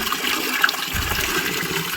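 Water gushes steadily from a pipe in a continuous, loud, close rush that never lets up, with no voices over it.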